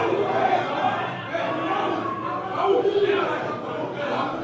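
Angry crowd gathered outside a police station in Liberia, a dense roar of many shouting and chattering voices, steady and close, with occasional louder yells rising above the din.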